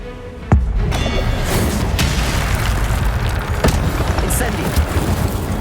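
Incendio fire spell blasts in the game Hogwarts Legacy: a sharp impact bursts in, then a sustained roaring rumble follows with a few further cracks, loud and close, while indistinct voice sounds come and go.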